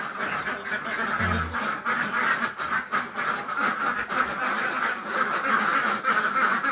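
A flock of ducks quacks loudly and continuously close by, many overlapping raspy calls forming a busy, chattering din.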